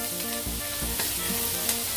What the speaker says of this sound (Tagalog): ilagay ng sibuyas. Igisa-gisa din ito hanggang sa maamoy na ang bango nito.